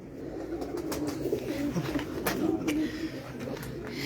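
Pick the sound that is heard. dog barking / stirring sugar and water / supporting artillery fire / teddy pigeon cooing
teddy pigeon cooing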